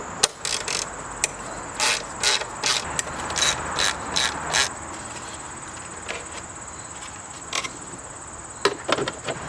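A hand ratchet works 10mm bolts loose on the valve cover of a six-cylinder BMW M54 engine, giving rapid bursts of close, crisp clicking separated by pauses, then a few isolated clicks.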